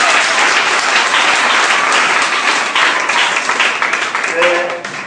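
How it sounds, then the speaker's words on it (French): A church congregation applauds loudly and steadily for several seconds, a dense wash of clapping that thins slightly near the end. "Alléluia. Acclamons pour Jésus."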